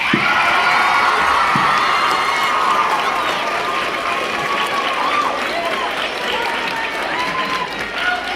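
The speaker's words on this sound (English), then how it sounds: "we stand up and we applaud and cheer for the coaches" Parents at a youth sports awards night stand and applaud the coaches, with a loud, sustained wash of clapping, cheers and whoops from a close crowd, easing slightly toward the end.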